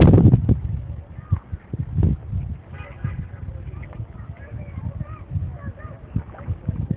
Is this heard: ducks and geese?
yes